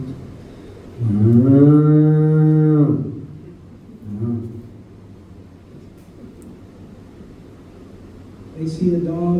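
A person imitates a cow's moo with a voice: one long, loud, sustained lowing call near the start, followed by quieter murmurs and a short vocal sound at the end, with light room noise between.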